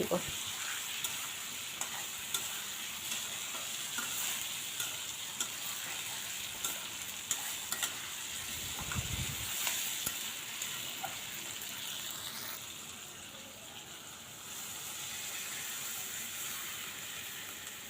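Curry in a pan, stirred with green chillies and a little too much oil before water goes in, sizzles and hisses steadily throughout, with scraping stir noises and a shift in the sizzle partway through.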